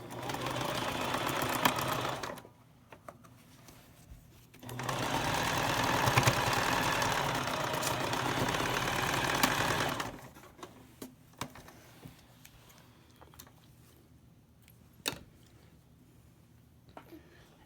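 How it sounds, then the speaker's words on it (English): A sewing machine stitches across a marked line on fabric in two sustained whirring runs, the second longer, separated and followed by quieter ticks, handling noises and low room hum. "So then I'll sew across this line."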